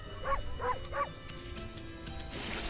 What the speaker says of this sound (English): I have a bark button.